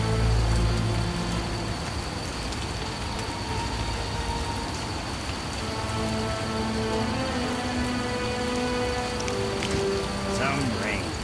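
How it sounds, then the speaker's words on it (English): Steady rain falls in a medieval fantasy role-playing game setting near a crypt, a dense continuous patter that holds at an even level throughout, with low rumbles underneath. "Some rain."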